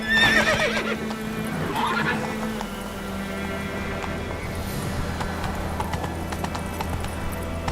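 Roach, Geralt's horse in The Witcher 3: Wild Hunt, galloping with steady rhythmic clip-clop hoofbeats and a brief whinny near the start, heard over game music and ambience.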